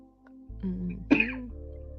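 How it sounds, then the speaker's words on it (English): A single husky cough and throat-clear from a person, close and fairly quiet, one rough burst rising over a low steady hum. "Husky coughs."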